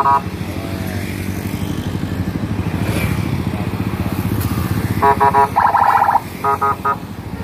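Motorcycles roll past in a daytime traffic jam on an Indonesian road held up by a 200-ton transformer truck, their engines a continuous close rumble, with several sharp horn toots near the end.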